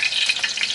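Curry leaves sizzle in hot oil in a frying pan while lamb brain roast is cooked, a steady close crackling fry with no voices.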